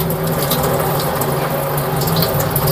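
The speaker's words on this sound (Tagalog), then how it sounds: "babasahin mo lang siya ng tubig." Tap water runs steadily over a reusable lint roller under rinsing, a continuous close splashing hiss with slight gurgling, and no talk.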